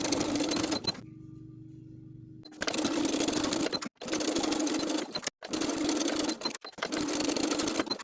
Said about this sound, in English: Edge stitch in place for each belt loop.